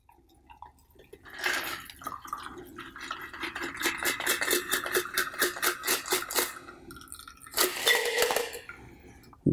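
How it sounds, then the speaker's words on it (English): A French 75 cocktail is double strained from a shaker into a glass, with a rapid run of close, rhythmic liquid and ice-shard pattering and clinks over several seconds and a brief splashy burst near the end. "double strain into our glass."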